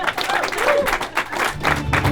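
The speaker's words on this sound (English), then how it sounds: "Keep that applause going for our friend." A comedy sketch festival crowd in Toronto claps and cheers in a dense wash of applause, with voices calling out over it and the noise surging and dipping.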